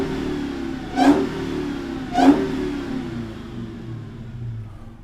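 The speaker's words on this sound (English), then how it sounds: "when it revs, it winds down aggressively" A supercharged Dodge Hellcat Redeye V8 idles with a low burble, then gives two sharp, loud revs about a second apart, each swelling up and winding down quickly.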